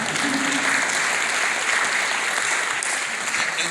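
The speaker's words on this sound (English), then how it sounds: "It's all right to clap." A festival audience at a Q&A session breaks into steady, sustained applause, a dense even wash of many hands clapping at moderate volume throughout, with no speech over it.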